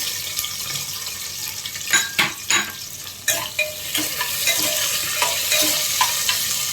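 Chopped onions sizzle steadily in a hot pan for a dal curry as a spoon scrapes and stirs them, with several distinct knocks and scrapes over the frying hiss, close up.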